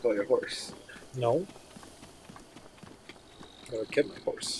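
Horse hooves clip-clopping in Zelda Breath of the Wild, soft and intermittent under frequent talking, with game sounds around them.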